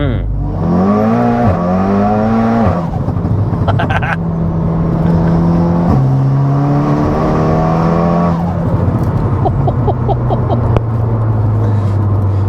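Tuned 600+ BHP VW MK7 Golf R Estate engine, loud and close, with revs climbing and dropping through several gear changes, then settling into a steady drone near the end.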